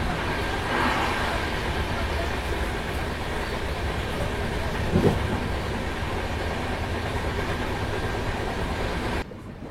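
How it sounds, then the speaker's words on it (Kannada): A passenger train running from KSR Bengaluru to Arsikere passes close by, its steady rumble and rail noise continuous and loud throughout, with a brief louder clatter midway before cutting off abruptly at the end. "ಸೊ ಅದು KSR ಬೆಂಗಳೂರಿಂದ ಅರಸೀಕೆರೆಗೆ ಹೋಗುವ ಪ್ಯಾಸೆಂಜರ್ ಟ್ರೈನ್ ಜೊತೆ ನಮ್ದು ಇವಾಗ ಕ್ರಾಸಿಂಗ್ ಆಗುತ್ತೆ."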